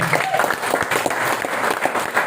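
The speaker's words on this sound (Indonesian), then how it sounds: "tepuk tangan dari DPS" Applause from an audience at a motivational talk on getting rich, a short burst of many hands clapping with some crowd noise and voices mixed in.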